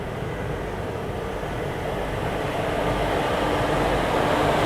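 The Poorvottar Sampark Kranti train pulling into Barsoi Junction with a loud, steady rumble and rolling rail roar that swells slightly toward the end.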